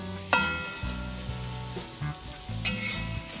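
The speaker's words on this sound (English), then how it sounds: "So now I'm going to put on the onions." Onions for a classic smash burger sizzle on a hot plancha, a steady frying hiss broken by sharp scraping and stirring strokes of a spatula, close and fairly quiet, with no talking.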